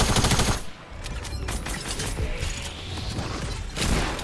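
Gunfire in a Fortnite Zone Wars match, a dense burst of shots and fusillade close up throughout, with mechanical clatter mixed in and no talking.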